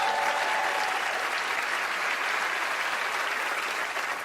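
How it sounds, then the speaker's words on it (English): An audience applauds Penn and Teller on a magic show stage, a dense, steady wash of clapping from a large crowd that holds at an even level throughout, with no talking over it. "a round of applause for Penn and Teller as they join me on stage"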